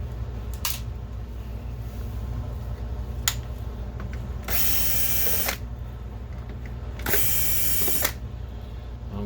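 Two short bursts of a power screwdriver whirring out screws from an Optoma HD8200 DLP projector under repair, close and loud against a steady background hum, with a few small clicks and taps between them.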